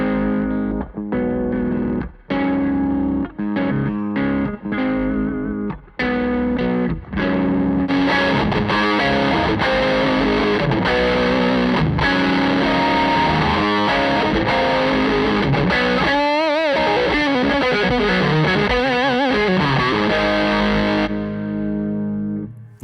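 An electric guitar through a Mooer Micro Preamp pedal plays with a heavily distorted, overdriven tone: choppy chords at first, then sustained riffs and bends ringing out loud and alone.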